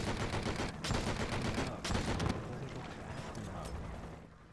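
Gunfire in the video game Enter The Matrix, with dense overlapping shots and bursts forming a continuous loud barrage that thins slightly toward the end.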